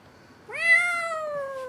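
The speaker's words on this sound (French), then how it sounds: "Un nouveau chaton, un de plus." A sick rescue kitten with cat flu gives a single drawn-out meow, close and clear, rising at the start and then holding steady before it trails off, with no other sounds around it.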